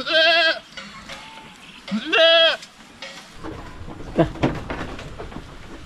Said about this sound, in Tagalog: Yan po ang pinakamaganda nating kambing ngayon na babae.